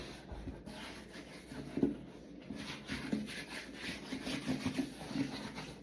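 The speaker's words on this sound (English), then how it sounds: "I'm just going to rub this down" A leather work boot rubbed down by hand with a cloth during cleaning, soft repeated close-up rubbing and brushing strokes in an uneven rhythm.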